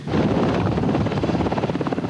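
A rescue helicopter flying over the water off San Francisco, its rotor giving a loud, continuous pulsing thump close to the microphone through the whole short stretch.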